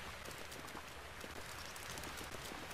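Rain in The Legend of Zelda: Breath of the Wild falls as a steady, faint, dense hiss of drops pattering on surfaces, unbroken throughout with no talk.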